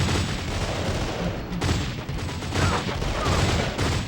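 Heavy machine gun fire in the shooter game Delta Force: Black Hawk Down, a dense, continuous roar of overlapping bursts and booms, loud and unbroken apart from a brief dip, with background battle noise.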